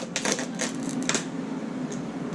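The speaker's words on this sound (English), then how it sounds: "I'm just going to squeeze my bottle close together and cut the very edge." Scissors snipping the squeezed edge of a plastic bottle, a few sharp clicks and crunches in a quick cluster near the start and another around one second, close and fairly quiet.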